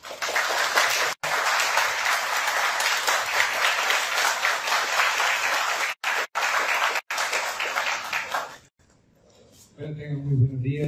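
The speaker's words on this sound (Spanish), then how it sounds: "Recibamos con un fuerte aplauso" A lecture audience applauds loudly and steadily for a visiting physicist, the clapping sustained for about eight seconds before stopping, followed by brief quiet and the start of a voice.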